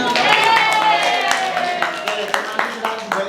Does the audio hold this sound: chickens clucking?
no